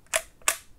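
On bulb setting, a Holga plastic medium format film camera's shutter snaps in two crisp, close clicks about a third of a second apart, open and close, in a quiet room.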